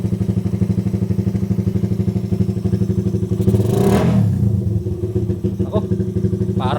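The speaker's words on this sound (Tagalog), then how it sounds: "mas halimaw yung tunog ng motor ko ngayon, ah." A Suzuki Raider 150 motorcycle fitted with a racing CDI idles with a close, loud, steady pulsing thump, then is revved once in a rising and falling burst before settling back to a rhythmic idle.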